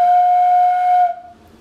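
A homemade PVC pipe whistle blown in one steady, loud, clear tone that holds for about a second before fading out quickly.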